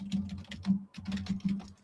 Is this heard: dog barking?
no